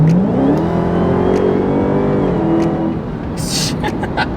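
A Dodge Hellcat's engine revs and pulls hard close by, its loud droning tone climbing steadily before easing off near the end, with brief higher clicks on top.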